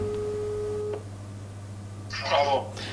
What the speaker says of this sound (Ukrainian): Телефонуємо Косовському Антону Петровичу.